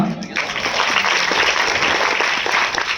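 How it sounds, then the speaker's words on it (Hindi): Audience applause at a speech event, a dense, steady wash of many hands clapping at once, loud and continuous from start to finish without a break. "तालियां।"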